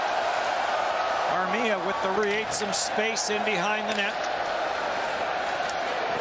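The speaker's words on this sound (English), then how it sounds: "And the crowd ramping this building up." A hockey arena crowd at a Finland versus Germany world championship game roars in a steady, dense wash of noise, with a commentator talking over it.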